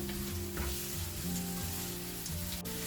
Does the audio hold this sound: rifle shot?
no